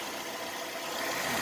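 A 2011 Nissan Altima 2.5 engine runs steadily as the car backs down ramps after a synthetic oil and filter change, a constant close mechanical drone with a faint rise near the end.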